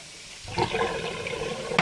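Water from a household sink drains into a bathtub and forms a vortex. After half a second of quiet, a loud, close gurgling rush starts suddenly and keeps going steadily.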